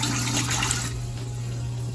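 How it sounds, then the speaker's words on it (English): Water poured from a cup onto bulk mushroom substrate in racks, a soft steady splashing and trickle that fades out about halfway through, faint and alone. "Gonna grab us some water here."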